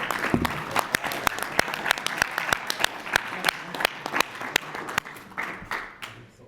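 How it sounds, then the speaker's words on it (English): A crowd applauds steadily for several seconds at a mental training panel event in Milwaukee, dense overlapping claps with a few sharp standouts, tapering off at the end. "let's have a round of applause for our world number 1"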